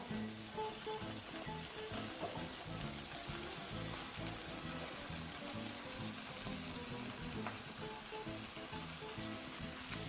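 Kale sizzles in a hot oiled pan, a dense, steady crackling hiss that stays even and moderately loud throughout with no talking.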